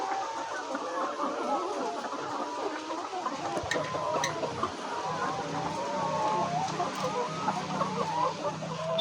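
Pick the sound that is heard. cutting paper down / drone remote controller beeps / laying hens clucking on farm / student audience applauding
laying hens clucking on farm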